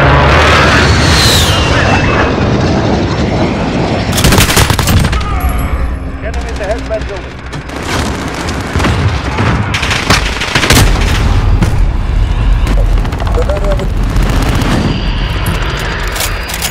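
Airstrike blasts and rattling automatic gunfire from Call of Duty: Modern Warfare in the St. Petrograd map, a loud, continuous barrage of booms and bursts layered under radio-style voices.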